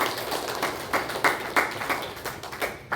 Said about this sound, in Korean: 박수를 올려드리겠습니다